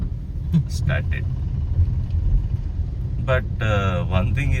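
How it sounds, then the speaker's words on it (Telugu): Steady low rumble of moving road traffic crossing a bridge over a barrage with water on both sides, engines droning continuously while people talk at intervals over it. "it's a moving traffic"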